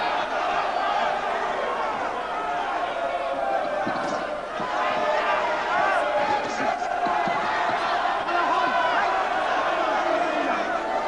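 Boxing crowd inside the Albert Hall, a broad murmuring roar of voices with scattered shouts and rising cheers, steady and dense across the whole stretch.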